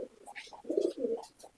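Pigeons of an old Pakistani lineage coo in a loft, a few soft throaty calls close by with brief pauses between them and no talking.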